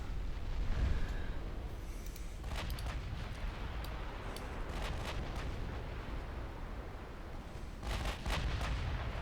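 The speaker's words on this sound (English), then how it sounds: "New York decides to fire at a destroyer." Naval gunfire in a video game as the battleship New York fires on a destroyer: a dense, continuous rumbling roar of heavy guns and blasts, with scattered sharper cracks and a louder burst near the end.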